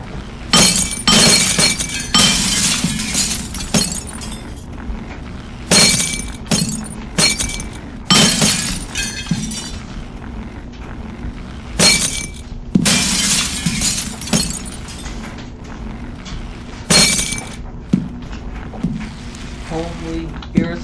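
Glass shatters again and again in the video game Happy Wheels, a run of loud, sharp crashes and clinks in irregular bursts over about twenty seconds.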